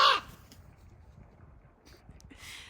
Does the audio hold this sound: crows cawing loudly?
yes